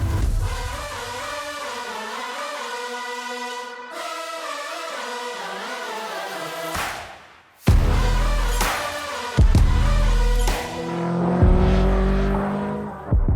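A 1982 Lancia 037 Rally homologation car drives with a rising, harmonic-rich engine note through the gears, drops away, then fires back with sharp, loud revs and bursts of acceleration, close and alone without voices.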